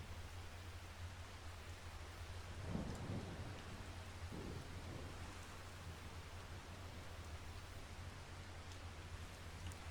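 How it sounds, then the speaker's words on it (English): Rain falls steadily in Farming Simulator 25 on Ronida Island, a soft continuous hiss with low thunder rumbling faintly in the distance, heard alone. "it started to rain"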